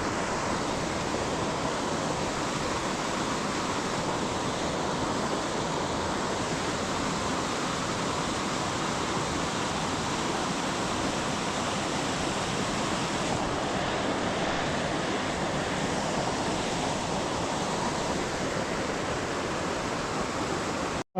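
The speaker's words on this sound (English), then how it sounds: "A lot of noise from the river." A meaty cascade on a small salmon river in Cumbria, a continuous loud rushing roar of tumbling water, steady and close throughout with no voices.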